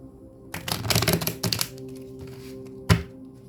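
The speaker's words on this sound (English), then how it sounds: "I'm going to shuffle again." A few quick riffling bursts of tarot cards being shuffled, followed by a brief pause and a single sharp tap near the end.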